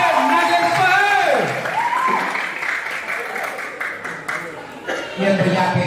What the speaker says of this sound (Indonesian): Tepuk tangan buat Wahyu Ulangun dari desa Nagesper.